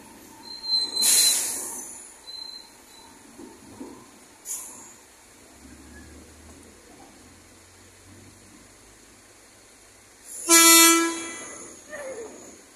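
A Toshiba electric train pulls out of Berazategui station, with two short horn toots, a faint one near the start and a louder one near the end, over low rumble and quiet stretches between.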